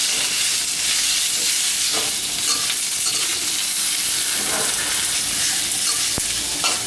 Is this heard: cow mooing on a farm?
no